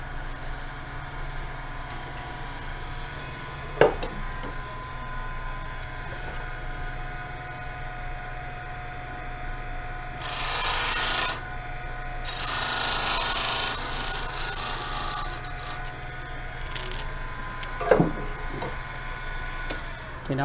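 A wood tenon being turned on a Rikon 70-220VSR midi lathe, with the motor humming steadily beneath two bursts of scraping, hissing tool cuts and a couple of sharp knocks.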